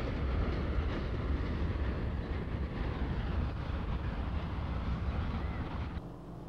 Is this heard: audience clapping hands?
no